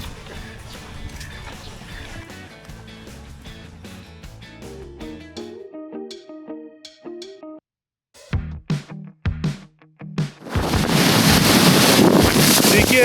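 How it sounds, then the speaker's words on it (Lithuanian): Wind at a wakeboard park in the centre of Šiauliai, following music and brief pauses, ends with a loud, steady rumbling roar of wind against the microphone. "vėjas vis dar yra, ko gero girdit"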